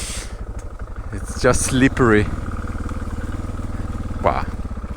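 A Suzuki DR650 on knobby tires rumbles at a low steady pace while being ridden across slippery ground, its engine throbbing continuously beneath a voice speaking briefly.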